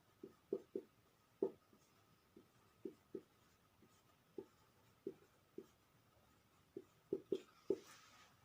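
Pen writing out a memory trick on paper during a lesson on tribal marriage customs, heard as a dozen short distinct scratchy strokes in an irregular rhythm, close and quiet with no talking.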